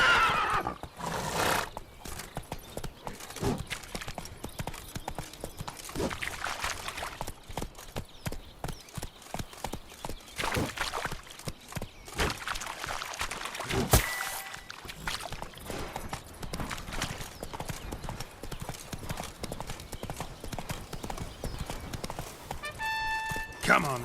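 Roach the horse galloping in The Witcher 3: Blood and Wine, with steady clip-clop of hooves and a whinny, continuous under game music and talk throughout.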